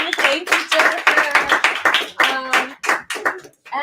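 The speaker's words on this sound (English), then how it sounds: "Big round of applause for Jennifer." At an auction marking a book opening, a small audience claps loudly and close by in irregular bursts, with distinct individual hand claps rather than a dense roar.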